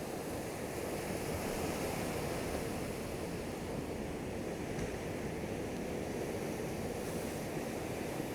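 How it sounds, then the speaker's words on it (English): Ocean waves coming in on the shore, a steady broadband wash of surf that holds constant, without distinct breaks or voices. "see the waves coming in."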